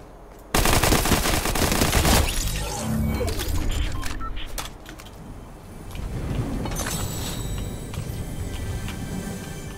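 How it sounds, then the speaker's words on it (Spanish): Bursts of rapid gunfire crackle loudly in Fortnite, dense at first and then thinning into scattered shots over a steady background. "hay unas disparos por aquí"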